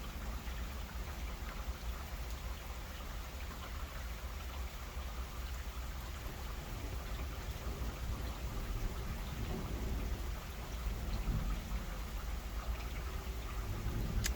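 Steady heavy rain pours through a stormy night, with a low rumble of thunder beneath the constant hiss that swells slightly toward the end and no voices.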